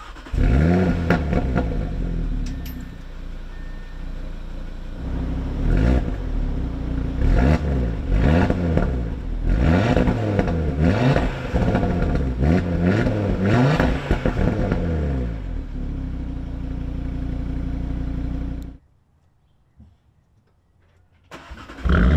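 Modified car engine starts and revs repeatedly in a before-and-after sound test, loud close rising and falling revs with clattery idle between bursts, then a brief near-silent gap before another engine starts.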